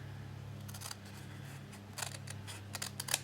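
Close scissors snip through the fold of a paper sheet for a mini booklet, a few short crisp cuts clustered near the end over a low steady hum.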